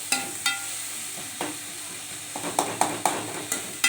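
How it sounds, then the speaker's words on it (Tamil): Ingredients with salt sautéing in a pan, a soft sizzle broken by sharp scraping stir strokes, spaced at first, then coming quicker and more regularly, close and fairly quiet with no talk. "நல்லா ஏற்கனவே நம்ம உப்பு சேர்த்துருக்கனால நல்லா வதங்கிடுங்க"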